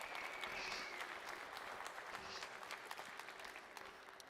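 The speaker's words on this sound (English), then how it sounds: "Please join me in giving the team a round of applause." Audience applause for a video game development team at a live reveal event, a sustained patter of many hands clapping at a low, steady level that tapers slightly toward the end.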